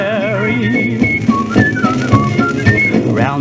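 Several people whistle a bouncy, cheerful tune together in a 1932 recording, the melody rising and falling in a lively, steady rhythm.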